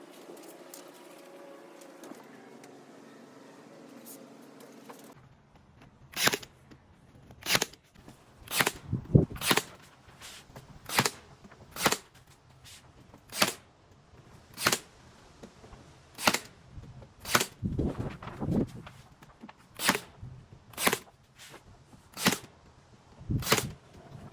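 Sharp, evenly spaced nail strikes fix wood pieces of a double-tier base in place, about a dozen distinct hits ringing out close and loud after a short stretch of quieter handling.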